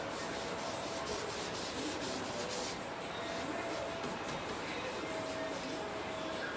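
Steady dense rubbing against painted bedroom furniture, worked firmly along the heavier spots to distress a farmhouse finish; a continuous close scratchy friction that shifts slightly in tone partway through, with no talk.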